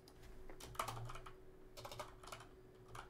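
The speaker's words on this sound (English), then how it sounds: "Don't listen to my keyboard clicking either" Computer keyboard keys clicking during typing, a quiet irregular patter of sharp taps in short bursts, close and alone without speech.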